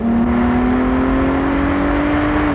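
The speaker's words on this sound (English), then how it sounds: "It's the exhaust noise." A V6 sports car engine revs loudly and steadily, its exhaust holding a rising, droning note throughout.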